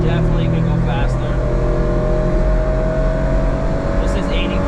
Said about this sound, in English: The car does kind of sound like it's screaming, but it definitely could go faster.